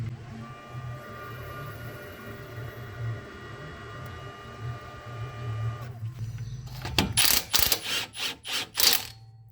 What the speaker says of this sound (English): I'm just using my gear wrench pass-through socket with something to hold the shaft